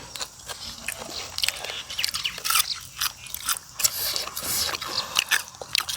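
Close, crunchy chewing and biting of fried cicadas with red ant eggs, a steady run of crisp crackles and wet mouth sounds over about six seconds with no talk.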